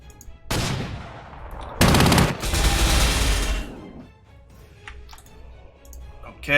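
A strategic bomber attack in the game Panzer Corps 2: a sharp burst of explosive fire, then a loud sustained barrage for about two seconds that fades into faint clicks and a final thud.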